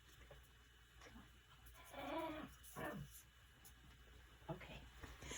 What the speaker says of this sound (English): She always makes this little growling noise whenever I pick her up